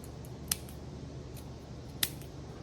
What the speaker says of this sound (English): take your scissors and just trim around all 4 edges